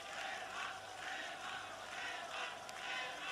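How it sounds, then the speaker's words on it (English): Stadium crowd at the Olympic Stadium applauding the Greek team during a Euro 1980 football match, a distant, roaring wash of many voices and clapping that swells and ebbs in soft waves, faint and continuous. "the Olympic Stadium giving its applause to the Greeks"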